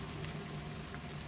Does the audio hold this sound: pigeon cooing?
no